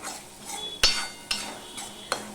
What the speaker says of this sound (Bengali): এবার আমি মশলা সমেত এইভাবে একটুখানি কষিয়ে নেব